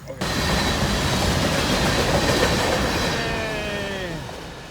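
A train rolls past on railroad tracks close by, a loud rumbling roar with clattering wheels and a rising metallic squeal, fading slightly toward the end.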